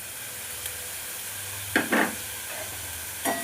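Spice paste hitting hot oil in a pan of cauliflower, giving a few short crackling sizzle bursts over a low steady hiss as it gets stirred in, close and fairly quiet, with no voices.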